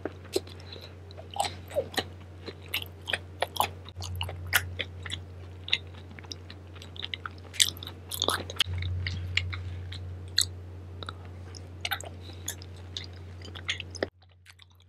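Close, wet chewing and crunchy bites of tteokbokki in thick, dry sauce with fried snacks and sundae, repeated steadily, with no one talking.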